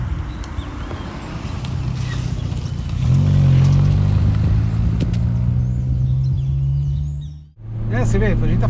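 Renault Twingo on 15-inch wheels driving through curves, a steady low engine and road drone with rising intake strain, briefly dropping out near the end before resuming, with a voice talking over it.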